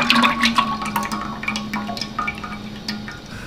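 Two kilograms of vanaspati ghee poured into a large cooking pot for a big batch of chicken karahi, a steady, fairly loud liquid pour with glugging and splashing throughout, no talking.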